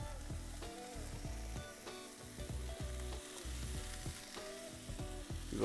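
Onion fries in a pan, a steady close sizzle with soft stirring scrapes and clinks throughout.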